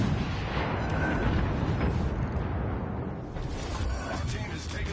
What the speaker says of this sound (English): everybody on the enemy team is shooting at me now